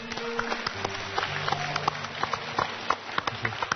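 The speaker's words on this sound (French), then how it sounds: "On l'applaudit bien fort, s'il vous plaît" Scattered applause from an audience at a French-language contest final, a thin, patchy patter of claps with sharper individual hits standing out over a low murmur.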